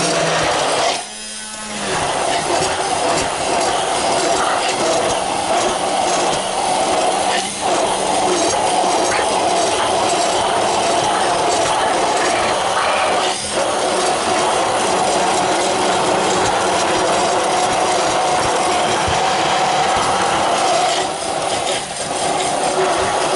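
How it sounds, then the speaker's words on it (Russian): A continuous whirring blender motor hum with a harsh, gritty texture runs throughout at steady loudness, blending a fruit smoothie with sugar, with a brief clunk near the start. "нужен блендер"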